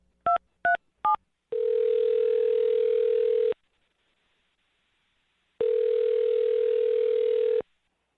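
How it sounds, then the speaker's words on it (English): A telephone number dialed as three quick tone beeps, followed by two long steady ringback tones with a pause between, clear and close with no talking. "dial her phone number right now"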